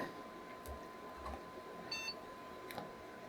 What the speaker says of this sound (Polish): Ładnie piknął, tu cała procedura startowa.